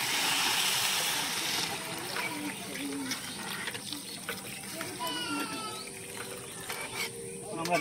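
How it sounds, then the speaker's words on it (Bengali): About 1.5 litres of water is poured into a pot of rice for village-style egg pulao, a steady close gushing pour that eases slightly as it goes, with voices talking over it. "জলটা দিয়ে দেব"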